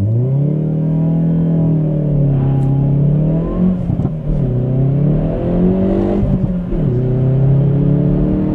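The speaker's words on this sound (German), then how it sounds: "Und wir beschleunigen jetzt gemeinsam von 0 auf 100." A Hyundai i30 N Performance (2022) engine revs hard, accelerating from 0 to 100 km/h and climbing through several gears, its loud droning pitch rising and dropping with each shift, close and continuous.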